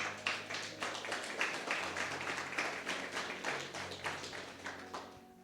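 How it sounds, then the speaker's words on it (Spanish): A church congregation claps together in a dense, steady patter of many hands, continuous and fairly even for several seconds before tapering at the very end, heard from a short distance in a worship service. "Denle un fuerte aplauso al Señor."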